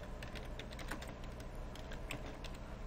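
Quiet, steady typing on a computer keyboard, soft rapid key clicks at close range with no voices.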